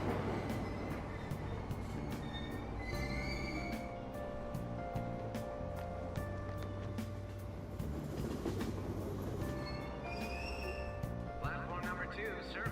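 A train departs a station in the video game Persona 5 Royal, with steady rumbling and rhythmic clatter under a continuous bed of background music and ambient station noise.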